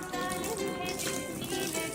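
Lots of water pours onto a waterproof bedsheet in a steady, continuous splashing rush that fills the whole stretch at an even loudness.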